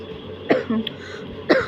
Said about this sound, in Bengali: আমি অলরেডি কাশতেছি, ভয়েস দিতে পারতেছি না।